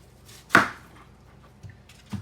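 A knife cuts through food on a chopping board with one sharp, close chop and two softer taps after it, all in a quiet room with no voices.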